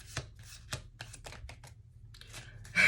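A Sacred Geometry card deck is handled and shuffled, producing a series of sharp, separate taps and snaps at an irregular pace, close and fairly quiet, ending with a louder rustle.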